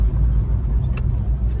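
A 1973 Chevrolet Chevelle SS with a 350 engine and Turbo 350 automatic transmission drives along, its low, steady engine and road rumble filling the cabin, with a brief bump partway through.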